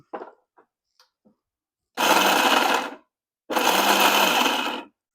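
A kitchen mixer grinder grinding coconut whirs loudly in two separate bursts of about a second each, with a few soft clicks and knocks before the first burst.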